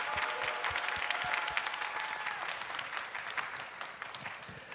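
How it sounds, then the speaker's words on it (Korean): A church congregation at a Sunday service graduation applauds to welcome a pastor, a continuous room-filling clapping with a few sharp, close individual claps standing out, fading slightly toward the end. "모두 박수로 환영해 주시길 바랍니다"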